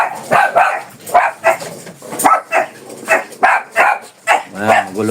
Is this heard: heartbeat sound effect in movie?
no